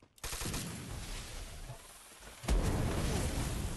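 Rapid bursts of M14 rifle fire in the Free Fire battle royale game, a dense run of loud shots that drops briefly then resumes with a sharp, heavier volley near the end.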